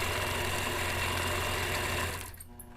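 A quilting machine stitches a feather-alternative border of leaves and curls, giving a steady loud mechanical whir that runs continuously, then drops off sharply near the end as stitching stops.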